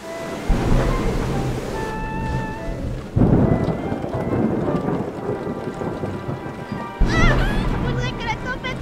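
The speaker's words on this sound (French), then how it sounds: "Faudrait que la tempête s'arrête." A cartoon thunderstorm pours steady rain while thunder crashes loudly several times, with tonal music-like elements and brief character voices over the storm.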